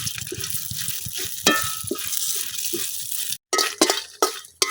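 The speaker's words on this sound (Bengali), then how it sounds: "এই তেলের মধ্যে আমি দিয়ে দিতেছি শুকনা মরিচ" Dried red chillies frying in hot oil, a steady bright sizzle with repeated soft stirring scrapes and clinks from a utensil, close and alone.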